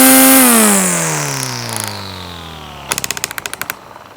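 Parkside Lidl cordless lawn trimmer winding down, its loud whine sliding steadily lower in pitch after switch-off, then a quick burst of rapid rattling taps as the line slaps against the guard.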